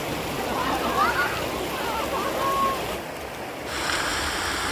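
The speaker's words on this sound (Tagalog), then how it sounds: "Sarap pakinggan ng lagaslas ng tubig." Water at a river campsite in Tanay, Rizal rushes and splashes steadily as a broad, continuous wash; bird chirps and a shift in tone appear partway through.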